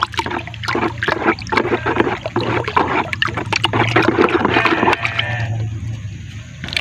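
Liquid Nativo fungicide poured into a 16 liter sprayer tank, a continuous close splashing and gurgling stream running for several seconds, with a low steady hum beneath.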